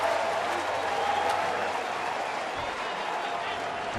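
A baseball crowd roars and applauds for a home run curtain call, a dense sustained wash of cheering and clapping throughout, with an announcer talking over it.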